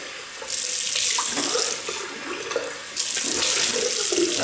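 Tap water runs steadily from a faucet into a sink as a double-edged safety razor is rinsed after a shave, the flow surging and easing in bursts, close and fairly loud with no talking.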